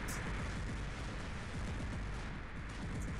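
Plasma bot fire in a Plasma Griff match comes as dense, continuous rapid bursts of gunfire and blasts in a loud, unbroken barrage, with no speech.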